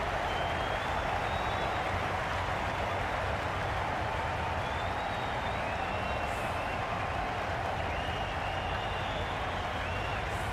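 A large cricket stadium crowd at an IPL qualifier in Ahmedabad keeps up a steady, distant roar of applause and cheering for a departing batter, unbroken for the whole stretch.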